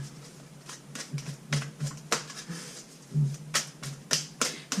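Repeated crisp snapping and riffling of tarot cards being shuffled by hand, in irregular bursts, close up with no talking.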